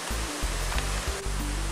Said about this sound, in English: Just one little tiny stream going down to this side of the bridge.